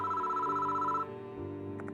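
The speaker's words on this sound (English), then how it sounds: "Why is the phone ringing now?" Telephone ringing in a visual-novel horror game set at a school at night, a steady electronic ring lasting about a second over a sustained music bed, then cutting off as the music continues.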